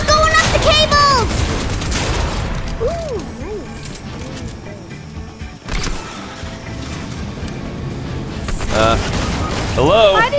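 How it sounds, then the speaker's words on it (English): Gunfire and mechanical clatter in Fortnite rattle through a busy game soundscape, with bursts of shooting and clicking over background noise and occasional talk. "Somebody shooting."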